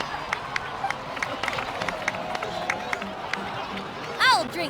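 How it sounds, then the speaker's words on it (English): Crowd applause in Genshin Impact's Natlan region: a dense patter of many hands clapping with some cheering, holding steady at moderate loudness, with a rising chirpy game effect near the end. "so please give another round of applause for them"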